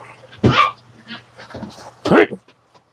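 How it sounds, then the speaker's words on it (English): A small rat dog barks in two sharp bursts, a short one early and a louder yelping one later, fairly close, with voices talking faintly around it. "Picking on the poor little rat dog."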